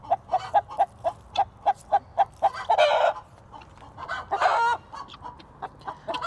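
Laying hens in a coop squawk loudly close by, opening with a run of rhythmic repeated clucks that breaks into longer agitated cackling bursts.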